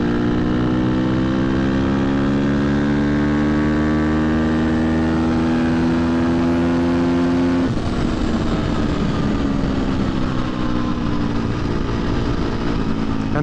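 A 2023 KTM 250 XC-F dirtbike engine on the street rises steadily in pitch as the throttle rolls on, loud and close, then shifts gear partway through and keeps pulling with a rough, buzzing note.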